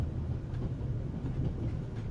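A train rolls steadily along its rails in a low, continuous rumble with faint rhythmic clatter, heard close from inside a carriage with no talk.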